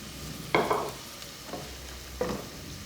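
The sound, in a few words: liver frying in a pan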